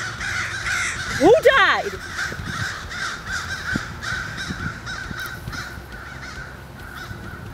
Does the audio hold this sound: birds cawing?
yes